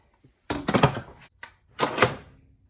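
Two solid thunks from an Instant Pot electric pressure cooker lid being set on and closed, a short knock followed a moment later by a fuller clunk, close and fairly loud in a quiet kitchen.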